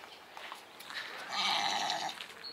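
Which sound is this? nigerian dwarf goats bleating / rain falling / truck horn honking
nigerian dwarf goats bleating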